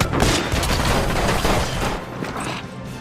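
Dense burst of gunfire with booming impacts in an action film's combat scene after a military training drill turns real, loud and continuous for about two seconds before easing.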